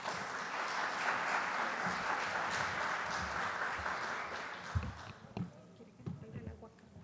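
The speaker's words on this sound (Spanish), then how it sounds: "Un aplauso para recibir a la señora Aida Luz Mendoza." Audience applause welcoming a speaker to a lecture at a distance-learning university, a broad steady clapping that fills the first five seconds and then thins into scattered claps and rustling as it dies away.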